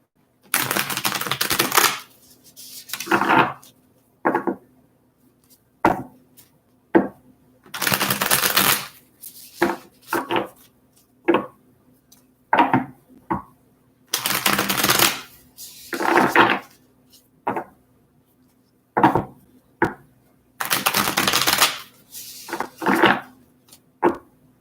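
Tarot cards are shuffled in repeated bursts of crisp riffling and slapping, close and fairly loud, with short pauses between each shuffle and no talking.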